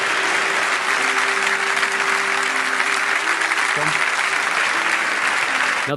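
A crowd applauds the Danish football captain Simon Kjaer at an evening event, a broad, continuous wash of clapping that stays loud and uniform throughout, with a faint sustained tone running beneath it.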